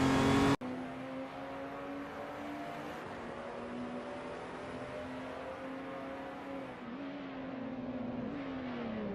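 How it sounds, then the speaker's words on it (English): A 2010 Peugeot RCZ race car drives on, its engine droning steadily with a sustained harmonic whine that shifts pitch slightly as it runs, loud and close, with no talk. "Purgatory is driving a 2010 Peugeot RCZ race car"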